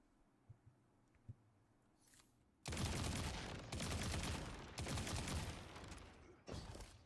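Rapid bursts of three-round weapon fire in the video game Destiny 2, loud and close in several clustered volleys after a few faint clicks, with no talking.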